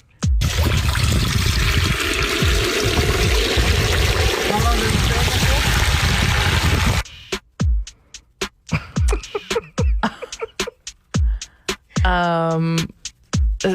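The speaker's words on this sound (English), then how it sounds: "That was somebody deep frying their turkey and pouring the water out." Water is poured out of a turkey deep fryer in a loud, rushing, continuous stream for about seven seconds; it then stops, and a person talks afterward.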